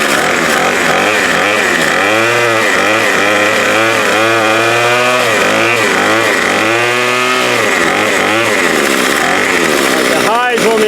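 A string trimmer's small two-stroke engine runs loud and close at half choke, its pitch rising and falling in repeated revving surges throughout, with a voice briefly audible underneath.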